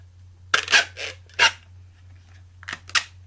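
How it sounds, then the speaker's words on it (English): Clear tape pulled off a roll in a few short bursts, crisp sticky rasps with quiet gaps between, close and alone over a low steady hum. "Next, we're going to take some clear tape,"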